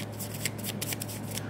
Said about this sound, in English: Picked up this deck, started shuffling.